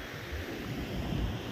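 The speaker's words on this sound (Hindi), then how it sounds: "ये काफ़ी पीछे से आ रहा है और काफ़ी स्पीड में पानी आ रहा है" Fast-flowing water rushing past an expressway construction site, a steady broadband roar with wind buffeting the microphone, continuous and close.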